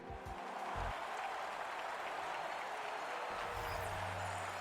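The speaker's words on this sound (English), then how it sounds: "So the crowd have come to life a little bit." Crowd in a hockey video game cheering and applauding as a steady, dense roar that stays loud and even throughout, with no speech on top.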